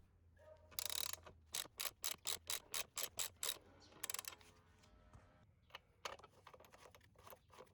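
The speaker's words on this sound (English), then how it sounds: "I propped the wrench on the 14mm side and I removed the 19mm nut." Wrench ratcheting off a 19mm rear axle nut on a Honda Grom motorcycle, a close series of about ten quick regular clicks, then scattered softer clicks and rattles in an otherwise quiet space.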